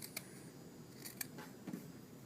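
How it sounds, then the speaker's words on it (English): Scissors snip through sock fabric, trimming the tail piece of a handmade sock monkey along its seam allowance: a few short, quiet cuts spaced apart over a low background hiss. "Cut that little extra off"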